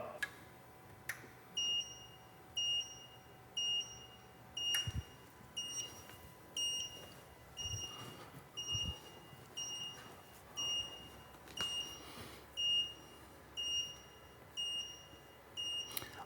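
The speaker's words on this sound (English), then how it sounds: "Press and hold the button for 2 seconds and the buzzer will sound." Buzzer of an Autel IA10 calibration tool used for night vision ADAS calibration on a 2024 Jeep Grand Cherokee 4xe, sounding as a steady series of short, high electronic beeps roughly once a second, fairly clear with no talk.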